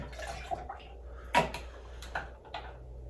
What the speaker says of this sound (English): we're gonna go 2 ounces of OJ